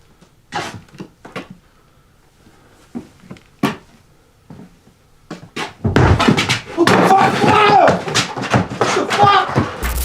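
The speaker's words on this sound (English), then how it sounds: "the heavy attic door suddenly slammed shut" A heavy attic door slams shut, giving a loud thud, and a dense burst of commotion fills the second half after scattered knocks and voices.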